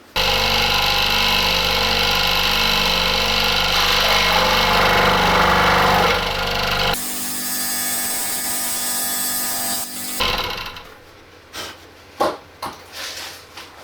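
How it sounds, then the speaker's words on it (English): A coping saw cuts through a small metal plate on a Cobra R9/RX air rifle magazine in steady, loud, continuous strokes that then shift in tone, before the sawing stops and a few light handling knocks follow. "I just do it with my coping saw."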